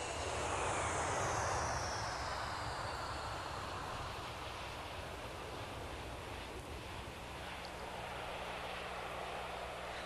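A passenger airplane's engines give a faint, continuous broadband roar that stays steady from start to finish, with no voices.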